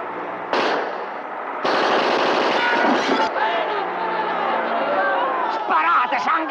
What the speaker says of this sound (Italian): Sono spari!